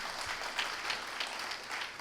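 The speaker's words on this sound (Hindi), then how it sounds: "तो इनके लिए तालियां हो जाए।" A hall audience claps for the people who have energised the gathering, a soft, somewhat distant patter of many hands that stays fairly even throughout the short stretch.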